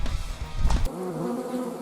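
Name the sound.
wasp buzzing sound effect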